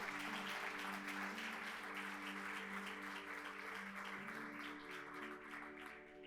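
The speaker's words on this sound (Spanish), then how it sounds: "Dale un fuerte aplauso a Él." A church congregation applauds at a Sunday service, the clapping faint and steady over a sustained, humming musical tone that lasts throughout.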